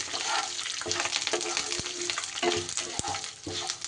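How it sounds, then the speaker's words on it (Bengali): Dried red chillies and curry leaves fry in oil in a pan, a dense close crackling sizzle with quick stirring scrapes and a few sharp knocks of the spatula, no one speaking. "শুকনো লঙ্কা আর কারি পাতা দিয়ে এবারে একটু এইভাবে ভেজে নিতে হবে।"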